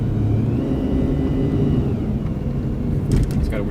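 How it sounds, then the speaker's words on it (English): A 2001 Chrysler Sebring air-conditioning compressor gives off a faint, steady whine over the rumbling road noise inside the moving car, fading out partway through. A short scraping rustle follows near the end. "I think that's the compressor."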